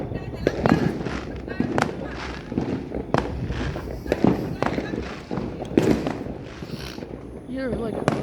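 New Year fireworks crackle and bang repeatedly at mid distance, sharp bursts overlapping in a dense, continuous barrage, with a crowd's murmur and voices underneath.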